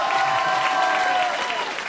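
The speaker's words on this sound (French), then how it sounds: "on peut l'applaudir" A French comedy show audience at the Golden Show claps warmly in a brief, steady burst, with a voice faintly over it.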